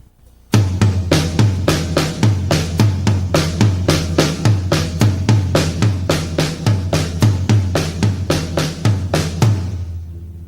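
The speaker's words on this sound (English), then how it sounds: "I'll demonstrate that on the different drums so you can hear the difference in the sound." Paradiddle variation from 1991 played with stick control across several different drums: a steady, fast run of close, loud strokes with accented bass thumps recurring through the passage, drums alone with no talk.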